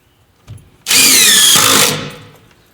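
A cordless screw gun drives screws into wood in a workshop, giving a short buzzing whir of about a second that ramps up sharply, holds loud and close, then winds down. A faint click comes just before it.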